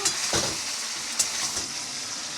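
Chicken with sweet pumpkin and green chillies frying in oil, a close steady sizzle broken by a few scraping stirs.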